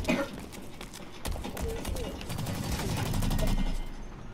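Gunfire from the online shooter Blacklight: Retribution, several sharp bursts crackling through a dense game mix and overlapping one another, loud and close throughout.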